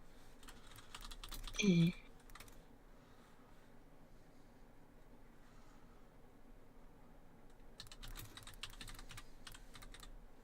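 Keyboard typing on a computer, a short burst of clicks near the start and another patter of keys later, fairly faint over a low room hum, with a brief vocal sound.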